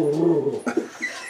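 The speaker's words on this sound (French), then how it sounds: "quand il nous voit, il grogne, il lâche des roulements" A dog grumbles and growls in a series of low, throaty rolling vocalizations, close and moderately loud, with a few short breaks between bursts and no clear talk over it.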